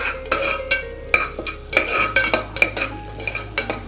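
Drumstick soup ingredients being stirred in melted butter in a pan with bay leaves and cinnamon stick: loud, close scrapes and clinks of a utensil against the pan in an uneven rhythm, with a faint sizzle beneath.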